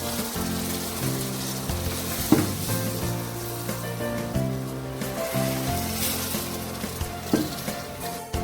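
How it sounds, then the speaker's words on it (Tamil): Loud, steady sizzling and hissing as boiling water is poured into a hot pan for semolina pongal, with a few sharper bursts, over a busy background of music. "தண்ணி இந்த அளவுக்கு நல்லா கொதிக்கணும். இப்போ எடுத்து ஊத்திக்கலாம்."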